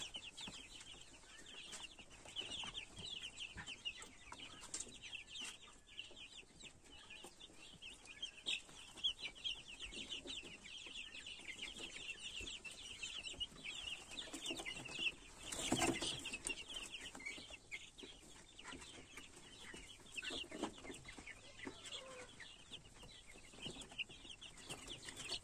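Naked-neck chicks cheep constantly inside a warm brooder, a dense chorus of high peeps running throughout at close range with no voices.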